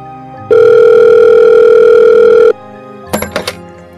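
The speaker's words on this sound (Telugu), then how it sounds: "వెంటనే స్వీట్కి కాల్ చేసి అక్కడ ఏం జరిగిందో కనుక్కోవాలి." A phone call's ringing tone sounds as one loud, steady two-second electronic beep, followed by a few short clicking tones as the line connects.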